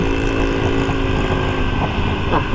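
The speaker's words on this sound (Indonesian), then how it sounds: "Ada motor berisik lagi di sebelah." Loud, steady engine drone close by, with a buzzing motor tone and harmonics running throughout, like a noisy motorcycle passing alongside in stop-and-go city traffic.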